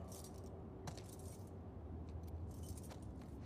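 Keys jangle and rattle in The Last of Us Part II, a steady close metallic clinking that runs throughout with brief louder shakes, no voices.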